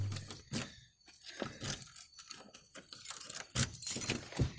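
House keys jangle and clink in several close, irregular bursts as a front door is being unlocked, with metallic rattles and scrapes between brief pauses.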